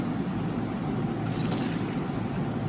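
Water pouring steadily into a pot while dhansak is being cooked, a continuous close splashing, gurgling rush that runs the whole time without speech.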